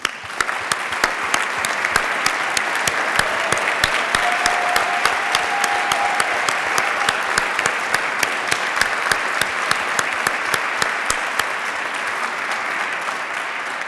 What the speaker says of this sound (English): Je vous remercie de bien vouloir l'applaudir également.